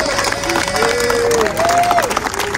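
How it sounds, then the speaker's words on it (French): Outdoor crowd of strikers and supporters in front of a company headquarters in Paris claps and cheers for the striking workers, lively mixed applause with shouting voices over it. "Encore une fois, on va les applaudir, les camarades"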